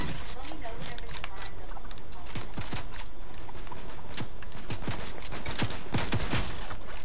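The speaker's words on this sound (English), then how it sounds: "Is that an AI shooting at us?" Rapid bursts of video-game gunfire from AI enemies crackle throughout, with dense irregular shots over steady game noise while a player talks.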